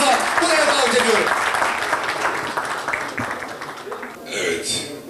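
An audience at a Trabzon associations federation gathering applauds the federation president, steady clapping that gradually fades, with voices and a throat noise near the end.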